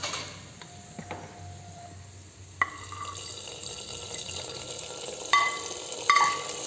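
Fried cashews and raisins being stirred into sweet sarkkarai pongal, a soft scraping and clinking of a spoon against the pot over a steady low kitchen hiss, with a few sharper knocks near the end.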